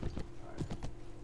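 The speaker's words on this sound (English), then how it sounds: "You're on a horse." Horse hooves gallop in Mount & Blade: Warband, a quick run of soft, thudding clip-clop beats in an uneven rhythm, moderately close and steady, with no talk over them.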